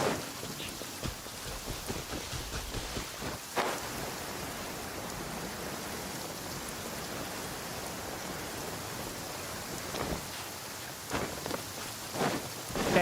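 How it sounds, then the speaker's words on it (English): Rain falling in a courtyard in the video game Genshin Impact, a soft, steady hiss of drops on surfaces throughout, with a few faint distant rumbles and brief louder splashes. "I love listening to the rain from the courtyard"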